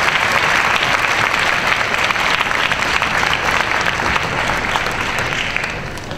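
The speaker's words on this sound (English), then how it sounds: "If we can give them a big round of applause for their efforts." A concert hall audience at a national honor music festival gives technical and theatre staff a big round of applause, dense steady clapping filling the room and fading slightly at the close.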